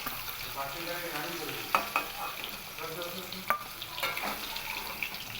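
Pieces of hilsa fish lightly frying in oil in a pan give a steady, moderate sizzle, broken by a few sharp clicks and spatters, with no talk.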